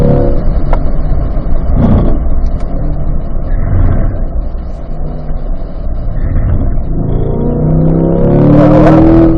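Race car engine powering out of a banked bowl corner at a Ron Fellows performance driving school, a loud steady drone that swells and rises in pitch near the end, with no talk.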